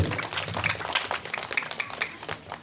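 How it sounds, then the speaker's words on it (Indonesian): Clapping from the audience at a school quiz competition for junior high teams, a dense patter of many hands close by, fairly steady and fluttering for a few seconds with no talking. "tepuk tangan dulu kepada masing-masing regu"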